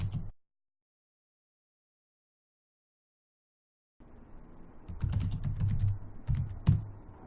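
Typing commands on a computer keyboard: a short cluster of quick, close key presses follows a long silence, ending with a few sharper taps.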